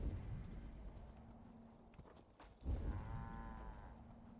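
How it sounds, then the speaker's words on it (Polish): A cow in the game Assassin's Creed Valhalla lows once, a drawn-out moo rising over a low rumbling farm ambience, with no talking. "Bo krówki tutaj są, nie?"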